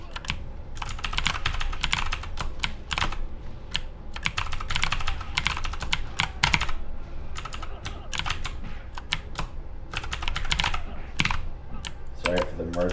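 Rapid, heavy computer keyboard typing and key mashing in bursts during a Mortal Kombat game, close and loud throughout with short pauses.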